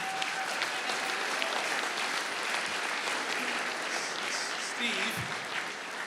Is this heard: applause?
yes